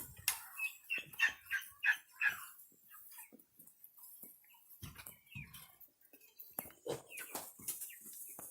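Turkeys and chickens on a farm make a burst of squawking, clucking calls in the first few seconds, then scattered softer clucks and rustles, fairly close and without talk.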